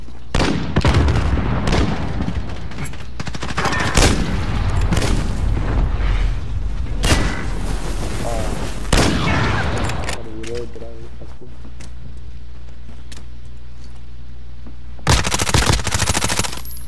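Heavy-recoil gunfire in a game, loud bursts of shots and booms spread through the stretch with denser volleys at the start and end, voices talking over much of it.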